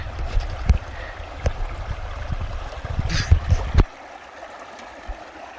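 River water flows and splashes during a crossing on foot, a broad rushing wash punctuated by clunks and sloshing steps, louder in the middle before easing to a quieter gurgle.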